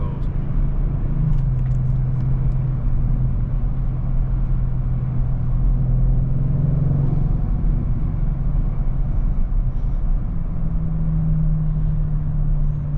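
Inside a 600 hp Audi RS6 wagon with a twin-turbo V8 and wide body, a steady loud engine drone and road rumble fill the cabin, with a slight rise in pitch as it pulls.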